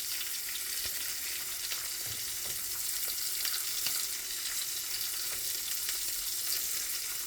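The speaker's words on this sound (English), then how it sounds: "We've got scrambled eggs going here." Scrambled eggs fry in a pan with a steady, close sizzle and crackle that runs throughout, with a few faint clinks and stirring scrapes and no talking.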